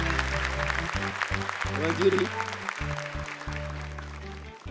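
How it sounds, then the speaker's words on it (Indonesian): Studio audience applause for two young contestants, Syifa and Kaila, on a Quran memorisation TV show, moderate clapping under a brief spoken word and a steady musical backing. "Buat tepuk tangan untuk Syifa dan juga Kaila."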